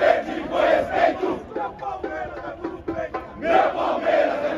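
Palmeiras football fans chanting at a Chelsea versus Palmeiras final, a large crowd singing in rising and falling rhythmic waves, loud and massed with no single voice standing out.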